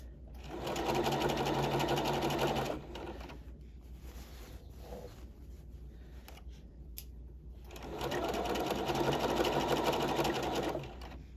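A sewing machine stitching a facing at the shoulder seam runs in two steady, loud, rapid whirring bursts, separated by a quieter pause with faint handling noises.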